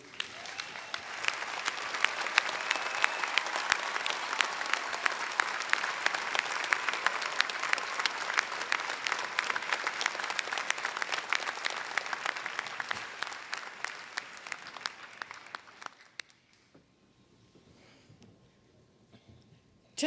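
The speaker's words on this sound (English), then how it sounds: "I invite the audience to join me in a round of applause for SCF's finest" A commencement audience at State College of Florida applauds the faculty, sustained crowd clapping that stays full and even for about fifteen seconds before stopping abruptly, leaving quiet room tone.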